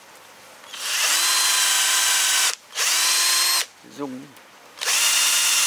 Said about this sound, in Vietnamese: Khoan kiểm tra, khoan chỗ nào, ngắm đi, khoan ở cái bụng này nhá